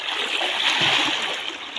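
Water splashing and sloshing steadily as people play and swim in a river in Chirang, Bodoland, Assam, a dense continuous wash of splatter with no clear pauses.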